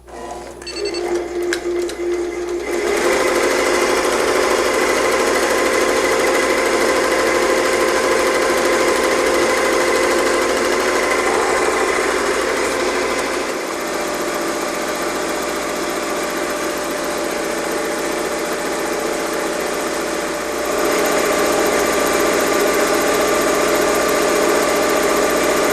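An embroidery machine stitches out a flock design, a loud, steady mechanical whir and rapid needle clatter that runs continuously for over twenty seconds, with a short startup before it.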